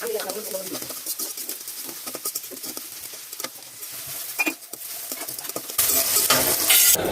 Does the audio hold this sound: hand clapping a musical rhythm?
no